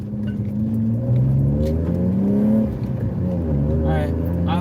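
A BMW E36 with a flat battery idles steadily nearby, its low engine hum constant and fairly loud, with faint pitch wavers as it runs.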